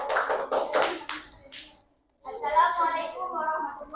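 Junior high classmates in a school classroom give a quick burst of clapping for a student group, a few sharp claps followed by a pause, then children's voices talking together.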